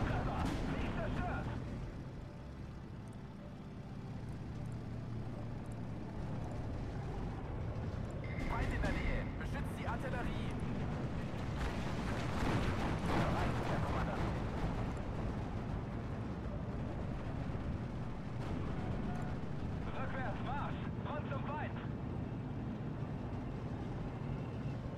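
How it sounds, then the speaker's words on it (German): Dense battle noise from the game Steel Division 2: booming artillery blasts and rumbling explosions roll continuously, with voices talking over the steady din. "Wir stehen unter Beschuss! Wie viele Schüsse feuern die eigentlich ab?"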